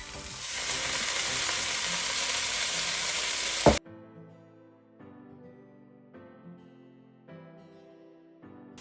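Cooked rice sizzles loudly in a hot pan for several seconds after a splash of cooking wine goes in, then the hiss cuts off abruptly and quiet stirring and scraping follow.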